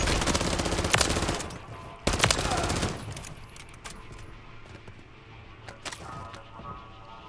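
Bursts of automatic gunfire and rapid shots in Call of Duty Modern Warfare Zombies, loudest in the first three seconds and then scattered, sharper shots over a busy game background.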